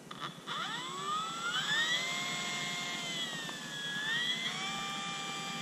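FMS F4U Corsair RC model airplane on its takeoff run, an electric motor whine rising in steady harmonic tones and sweeping up and down with throttle, loud and close, continuous for several seconds with no talk.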